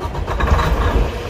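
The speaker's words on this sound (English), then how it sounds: "See, engine runs." A 2019 Detroit DD15 diesel engine swapped into a 2015 Freightliner Cascadia runs with a loud, deep, rough rumble close by, its uneven low chugging filling the whole moment.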